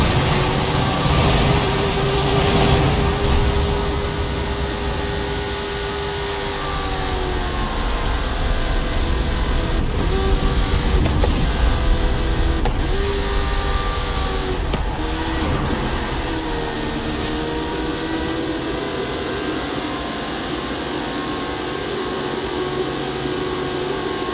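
A Hot Wheels Baja Bone Shaker in Forza Horizon 5 drives with a steady engine drone, its revs rising and falling in smooth sweeps, with a few brief transient knocks along the way.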